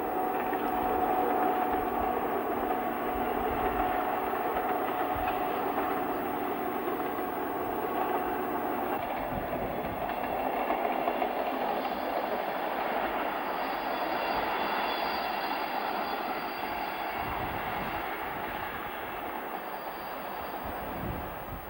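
An RGP diesel railcar train on the Cévenol railway runs through autumn countryside, a steady engine drone and rolling wheel noise heard from on board, loud and continuous, with a shift in tone partway through.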